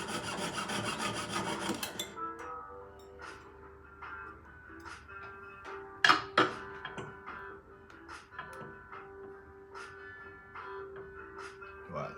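A jeweller's hand saw cuts through an 18k yellow gold ring in quick, soft rasping strokes that start dense and loud, then thin into scattered light scrapes and taps.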